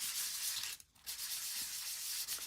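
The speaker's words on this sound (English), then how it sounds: "you can take and emphasize parts that are sticking out and make them just more prominent with sanding" Cardstock is sanded with quick, quiet rubbing strokes, a faint continuous scratchy hiss with a short pause partway through.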